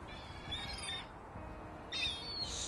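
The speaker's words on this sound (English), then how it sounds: "Stupid seagulls." Seagulls call outdoors in a couple of short, piercing bursts over a constant background hiss of wind or surf.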